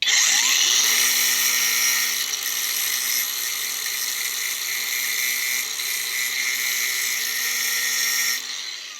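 A high-pitched angle grinder whines steadily against metal during a spark test of a non-magnetic metal, loud and continuous for several seconds, then winds down near the end.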